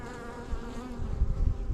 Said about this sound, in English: It's a younger bee.